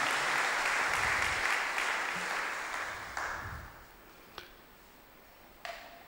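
A congregation at a Prayer for Christian Unity service in the Diocese of Vasai applauds in a dense wash that fades over about three seconds, leaving a few isolated claps in the quiet.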